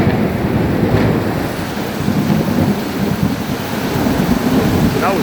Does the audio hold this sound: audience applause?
no